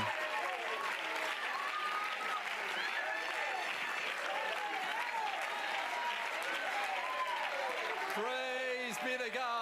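Sustained applause and cheering from a congregation during a church service, a dense wash of clapping that stays loud throughout, with voices calling out over it.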